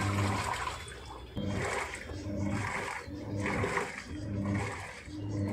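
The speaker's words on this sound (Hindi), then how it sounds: "तो देखिए सेकेंड टाइम पानी छोड़ रहा है और रिंस हो रहा है।" A Godrej 6.2 kg fully automatic top-load washing machine drains water during its second rinse, a steady rushing, gurgling flow with rhythmic surges, close and fairly loud throughout.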